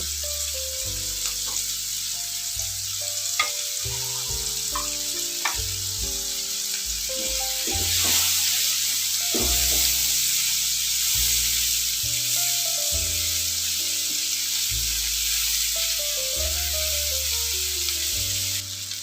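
Onions frying in a pan for chilli baby corn give a steady, loud sizzle that lasts throughout with no one speaking, while music plays underneath.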